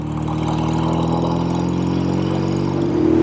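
A motorcycle engine runs close by with a steady, droning tone that rises slightly in pitch and loudness toward the end as it picks up.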